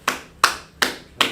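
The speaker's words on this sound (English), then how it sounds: "So those people who got it right, clap them up" Four sharp, evenly spaced hand claps ring out close and clear in a quick steady rhythm, each fading fast into quiet.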